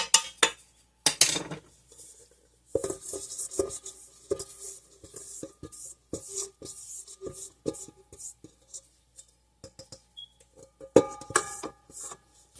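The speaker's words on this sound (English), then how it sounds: "Scrape down the sides of your bowl." A spatula scrapes around the sides of a mixing bowl of almond cookie dough in a home kitchen, giving a series of close, irregular scraping and clinking strokes with brief pauses.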